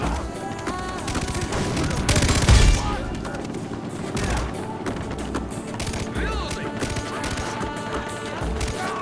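Rapid gunfire from a shooting fight in the video game Far Cry 3, with loud bursts of shots and a heavier blast near the start, continuing as steady dense firing, with some voices in the game mix.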